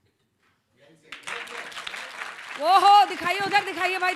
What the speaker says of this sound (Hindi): तालियों की गूंज आ रही है उस तरफ से